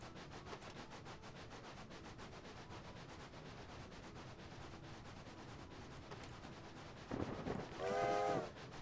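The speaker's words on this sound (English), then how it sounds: "Oh, I just managed to get the whistle in time." A steam locomotive whistle in the train game A Bumpy Ride sounds near the end as a loud, bright, sustained blast over a steady rolling rumble of the train.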